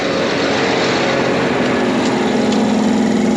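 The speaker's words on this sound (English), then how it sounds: "Make sure the air compressor's running." A farm air compressor runs while corn planters are readied, a loud, steady mechanical drone with a low engine-like hum throughout and no talk.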